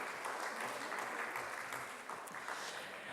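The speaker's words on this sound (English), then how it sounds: "Once again, a big round of applause." Audience applause for a panel at a cultural accessibility event, a steady broadband clatter of many hands filling the short stretch at moderate level, with no talk over it.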